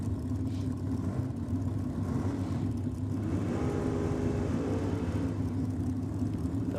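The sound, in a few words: drag racing cars, Holden Calibra and VP Commodore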